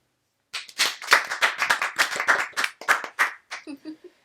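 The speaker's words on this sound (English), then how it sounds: "also worth a clap." A few people clap briskly in a podcast studio, a quick close run of hand claps lasting about three seconds before tapering off into quieter sounds.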